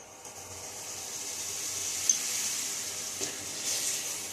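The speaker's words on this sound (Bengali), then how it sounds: "আমি এবারে মশলাটাকে ভালো করে কষিয়ে নেব।" Spice masala with salt and sugar fries and is stirred in a pan for doi rui, a fish-in-yogurt curry. It makes a steady, moderate sizzle broken by a few soft stirring scrapes, with no speech.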